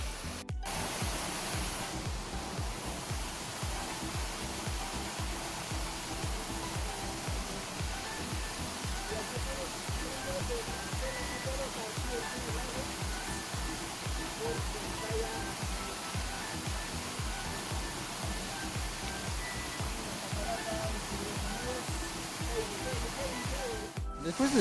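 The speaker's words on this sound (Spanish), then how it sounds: "Y aquí tenemos la catarata pequeña," Small waterfall in San Jerónimo, Cusco, a steady, close rushing roar of falling water with no pauses, continuous hiss and low churning throughout.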